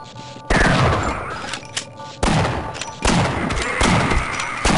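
Three loud, booming shotgun blasts from the video game Half-Life, each followed by a long decaying rumble.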